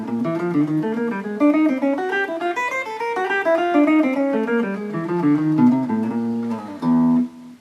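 Steady run of clean single guitar notes picked one after another as the fingers twist across the strings in a warm-up pattern, played alone with a brief louder chord-like burst near the end.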